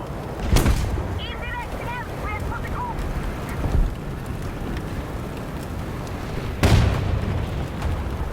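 Tank cannon fire in a tank video game featuring a T-34-85, with two heavy, deep booms several seconds apart over a constant rumbling engine drone, and a voice talking in between.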